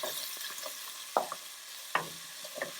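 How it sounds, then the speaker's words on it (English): Onions sautéing lightly in a pan where pork was just browned for a milk-braised pork dish: a quiet, steady sizzle broken by a few sharp utensil clicks and scrapes, with no talking. "now I'm going to just saute the onions lightly"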